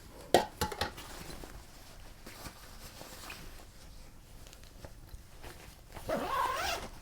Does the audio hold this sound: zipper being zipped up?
yes